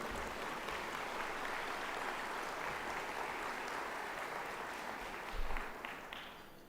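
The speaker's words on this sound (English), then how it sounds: "you can go ahead and clap on that one." Audience applause at a United Way of Summit & Medina annual meeting, a dense steady wash of clapping from a roomful of people that holds throughout with a brief louder swell near the end.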